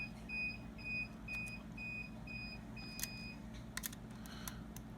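A child's ride-on toy beeps in a repeated series of short, evenly spaced electronic tones, moderately near and steady over a low background hum, with a few sharp clicks later on.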